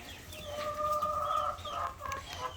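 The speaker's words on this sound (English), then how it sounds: "Here's our juvenile chickens." Several young chickens cluck and chirp nearby in a busy, overlapping chorus of short, high calls.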